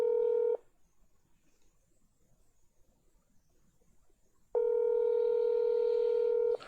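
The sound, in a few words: telephone dialing tones calling someone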